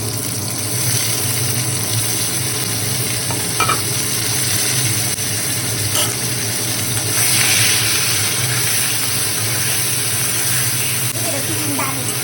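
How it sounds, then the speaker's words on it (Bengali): Pointed gourd (potol) fries in oil with a steady close sizzle and occasional stirring scrapes and clinks, continuous throughout with a low background hum. "পটলটা ভেজে নিতে হবে লাল লাল করে, লাল লাল করে ভেজে নিতে হবে"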